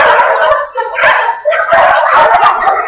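Several dogs barking and yipping close by as volunteers feed them, overlapping loud barks and whining howls in quick, uneven bursts with no talk over them.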